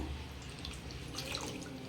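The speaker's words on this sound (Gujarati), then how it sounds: "હવે બીજું ચોખ્ખું પાણી રેડી આપણે ગોટલીના રીતના ધોઈ કાઢીએ પાછી" Water splashing and trickling in a container as mango seed kernels are washed, soft and close, with gentle sloshing and small drips continuing throughout.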